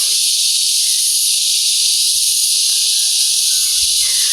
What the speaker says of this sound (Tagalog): Ang dami na namang ano, yung insekto na to. Ang ingay-ingay.